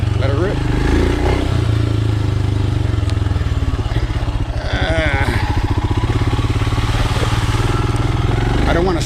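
A Royal Enfield Himalayan motorcycle engine drones steadily and loudly up close off-road, its throttle rising and falling with rattly revs, and a voice speaks briefly over it.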